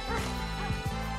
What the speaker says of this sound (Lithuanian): šunį, kuris yra Chihuahua